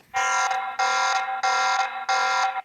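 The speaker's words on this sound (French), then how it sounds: "Ici, vous pouvez déclencher une alarme directement sur la caméra," A TP-Link VIGI security camera's built-in alarm siren blares in four pulsed bursts with short gaps between them, harsh and buzzing, very close and with nothing else audible.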